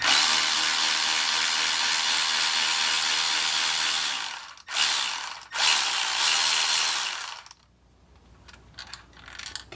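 Ratchet wrench working bolts loose on the engine of a Mercedes C55 AMG with an M113 V8, a dense continuous metallic clicking close up for several seconds, with brief pauses, then quieter scattered taps near the end.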